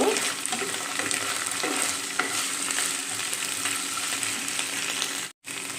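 Ginger and garlic fry in a pan with a loud, continuous crackling sizzle and occasional stirring scrapes, close up, ending with a brief drop to silence.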